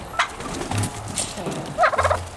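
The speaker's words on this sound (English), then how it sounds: "Ooh, you're loud, Miss Turkey." A turkey hen gobbles loudly nearby in two or three rattling bursts, with short pauses between calls.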